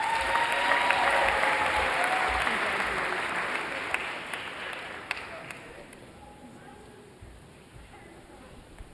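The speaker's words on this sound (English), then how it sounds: "How about a huge round of applause for our bachelor's degree recipients and certificate recipients?" A large audience at a university commencement ceremony claps loudly, the applause swelling then slowly fading out over several seconds with a few scattered claps at the end.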